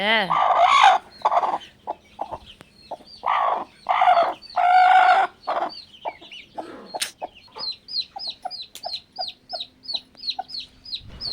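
Domestic hens cluck at a sheep-rearing farm, with a rooster crowing among the birds. Someone talks over the early clucks, then a steady run of close, rhythmic, repeated clucks carries on alone.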